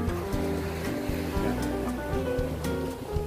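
Ocean waves roll and wash continuously at an empty beach with a strong current, a loud, close, steady surf roar throughout with no talking.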